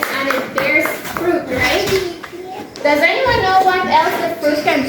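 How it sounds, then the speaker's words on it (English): A classroom of young children clap for a classmate during a lesson: brief scattered claps mixed with a teacher and children talking over them. "Give her a clap."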